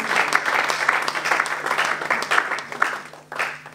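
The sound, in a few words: congregation applauding the Lord in church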